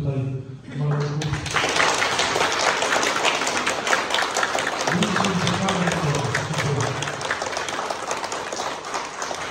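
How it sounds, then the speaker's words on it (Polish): Audience applause at a kindergarten nativity play, a steady dense clapping that starts after a brief pause and holds loud and even to the end, with a few voices mixed in. "A ja jeszcze raz bym prosił o oklaski dla moich tutaj malutków."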